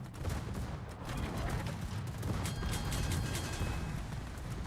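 Secondary guns aboard the ship Mistral in a naval battle game fire in a dense, continuous rumble of overlapping shots, loud and steady across the whole stretch with no speech.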